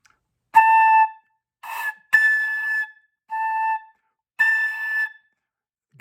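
Several separate breathy whistle-like tones, each held about half a second to a second, alternating between a lower and a higher pitch with short gaps.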